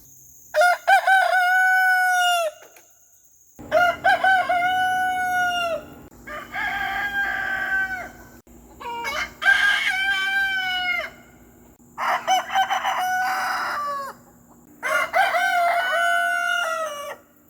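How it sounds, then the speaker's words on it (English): A rooster crows loudly again and again, six long calls spaced a couple of seconds apart, with a low farmyard hum between them. "Roosters also can be annoying. As you can tell, they can crow."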